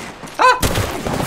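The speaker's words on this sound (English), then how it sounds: "Shooting at me." Gunfire in the Apex Legends video game, a short burst of rapid shots following a brief voice.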